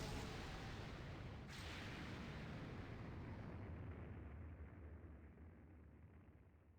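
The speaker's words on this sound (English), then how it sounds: "That was quite the explosion." A big explosion in the video game Rune Factory 5 sets off a loud, sustained rumbling roar that starts at once, then fades gradually over about seven seconds, with no talking over it.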